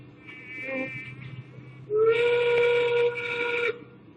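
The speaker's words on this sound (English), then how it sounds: "It's about this bee." A bee buzzes in a steady, whining drone that starts soft, then swells into a loud, close buzz for nearly two seconds before cutting off, with no voices.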